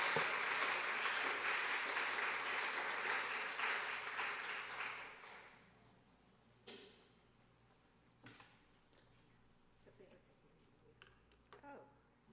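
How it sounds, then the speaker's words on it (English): A Sunday service congregation gives a warm round of applause for a guest speaker, full and steady at first, then fading over several seconds, leaving scattered handling knocks and a few soft sounds in a quieter room. "I hope you all will join me in a warm, welcoming round of applause for our guest speaker"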